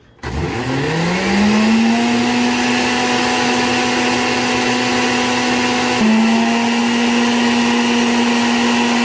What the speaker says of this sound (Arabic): خلاط